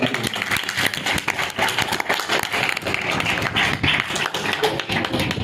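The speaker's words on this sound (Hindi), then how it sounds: "जोरदार तालियां खुदा के लिए।" A church congregation at a Christian marriage ceremony applauds loudly, a dense, continuous wash of many hands clapping close by, with faint voices mixed in.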